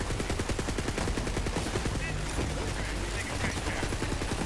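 An SMG in Borderlands fires in a rapid, unbroken automatic stream, with tightly packed shots running the whole time at steady loudness. Game noise fills the background.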